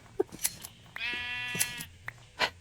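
A single sheep bleats in Minecraft, one clear wavering baa lasting about a second, set among soft clicks and taps.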